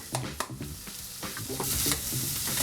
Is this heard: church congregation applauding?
no